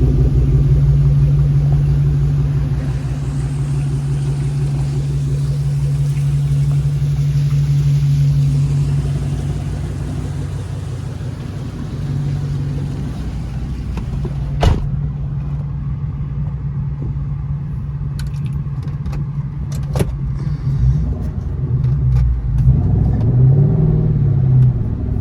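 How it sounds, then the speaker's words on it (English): Yellow Ford Mustang Mach 1 cruising on a drive, its engine a steady low rumble heard from inside, with occasional clicks and road noise and a slight swell near the end. "I took the yellow Mach 1 on a beautiful drive that day"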